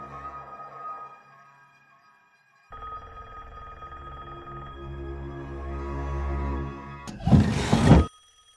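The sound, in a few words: telephone ringing in movie scene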